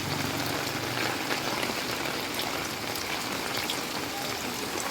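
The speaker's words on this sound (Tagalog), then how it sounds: "Grabe yung ulan, lakas." Heavy rain pours down in a dense, steady hiss, loud and unbroken throughout, with no voices.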